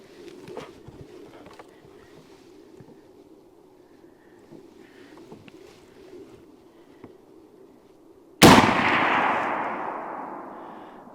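A single sharp rifle shot from a 375 Winchester firing a Buffalo Bore heavy 255-grain jacketed flat-nose cartridge cracks loudly near the end, with a long decaying echo after quiet outdoor ambience.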